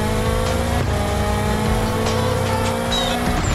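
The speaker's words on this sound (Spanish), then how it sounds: "conduciendo este auto Nissan deportivo de color verde" A green Nissan sports car in a stunt racing video game, with a sustained revving engine tone, shifting pitch and brief tire squeals over the continuous drone of the car, no talking.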